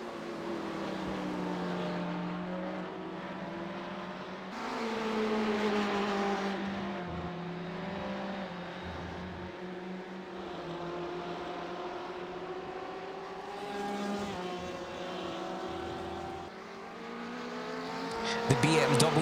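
Race cars in a night endurance round at Imola, including a BMW, accelerate down the straight, their engine notes droning and rising steadily throughout, with commentary talk running over the top.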